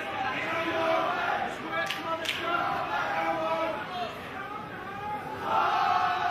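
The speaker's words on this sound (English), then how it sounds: "Crowd very vocal for this one." Vocal crowd at a Fight UK grappling bout, a steady roar of shouting and chatter that swells near the end, with commentators talking over it throughout.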